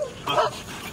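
A police dog in training gives a single short bark, close and fairly loud, in a brief moment without speech.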